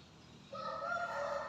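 A Vietnamese thổ đồng decoy dove coos close to the recorder: one drawn-out, tonal call that starts after a brief quiet moment and carries to the end.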